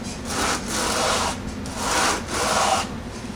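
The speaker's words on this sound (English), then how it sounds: "use my burnishing tool and slick up this edge" A burnishing tool rubs along the edge of a leather bushcraft sheath in three steady back-and-forth strokes, a close, dry, scraping friction with short pauses between passes.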